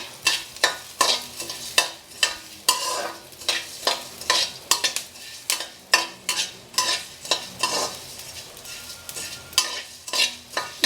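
Coriander seeds and cumin dry-roasting in a pan, stirred with a rhythmic series of sharp scraping strokes and a light sizzling rustle, close and steady with no talk.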